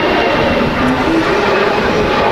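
EasyJet airliner at windy Manchester Airport, a loud steady engine roar with a faint whining tone, constant throughout and close by.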